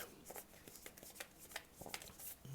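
Oracle of Rama oracle cards shuffled by hand, a steady run of close, soft riffling and slapping strokes with no talk over them.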